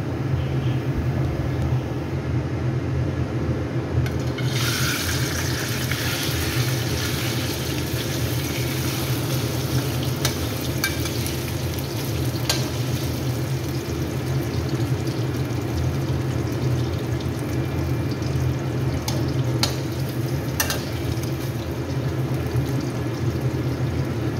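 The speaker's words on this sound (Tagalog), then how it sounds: "Sinasalang na natin yung ating hiniwa na kiam kueh sa mainit na mantika." Sliced kiam kueh frying in hot oil over medium heat, giving a steady, dense sizzle and crackle that stays even and close throughout with no talking.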